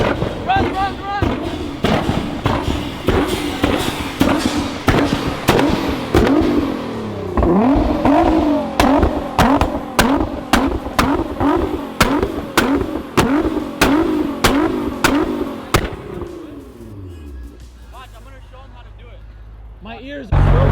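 A Nissan GT-R revs hard and its exhaust pops and crackles while shooting flames, a rapid string of loud sharp bangs over engine roar for about fifteen seconds, then the engine settles to idle, with people shouting nearby.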